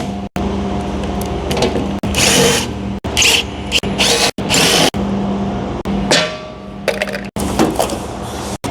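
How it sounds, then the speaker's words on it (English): Impact wrench removing four bolts from a battery top plate on an XC 8.0 battery pack, loud ratcheting bursts of a second or so each, separated by abrupt stops and clicks, close up with no talk. "you got 4 bolts on this top plate. So I'm gonna go ahead and gear up with my impact."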